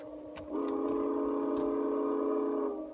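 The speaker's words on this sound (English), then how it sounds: "a loud chime whistle was heard, and a South Australian locomotive came into the yard" Loud, sustained chime whistle from a South Australian locomotive pulling into a rail yard, a steady multi-tone blast lasting over two seconds after a brief lead-in, with no talking.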